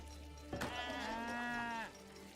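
A single sheep bleat from the video game Age of Empires 3, one wavering call of about a second and a half, clear over faint background.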